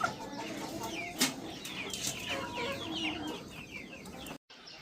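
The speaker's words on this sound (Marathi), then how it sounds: "मग ह्या कोंबड्या सोडायच्या बाहेर" Several chickens cluck and chatter nearby in a busy, overlapping stream of short calls, moderately loud and continuous.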